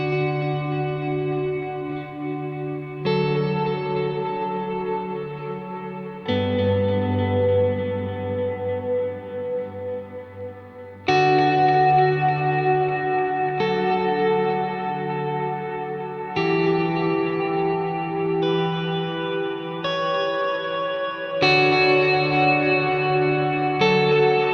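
Ambient electric guitar played through delay mixed with reverb, slow sustained chords changing every few seconds, each swelling into a wide, washy, shimmering tail that overlaps the next.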